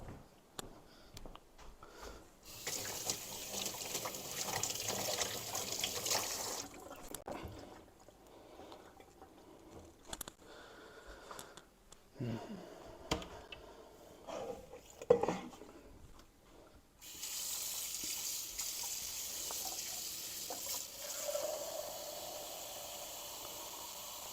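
Water runs from a tap in spurts during sausage making, a steady hissing rush that stops and starts, with faint clinks of dishes between pours.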